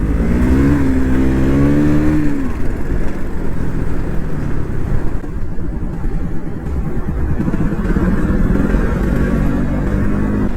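A KTM Duke 200 motorcycle accelerating hard on a muddy village road under construction. Its close, loud engine note climbs in pitch, then gives way to a steady rumbling drone with wind noise.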